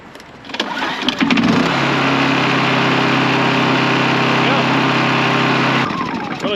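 A Honda EU2200i inverter generator is pulled to start, catches and settles into a loud, steady running drone with a buzzing hum that holds for several seconds before cutting back, heard up close.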